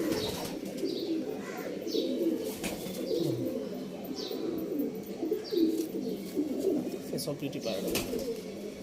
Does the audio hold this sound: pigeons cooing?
yes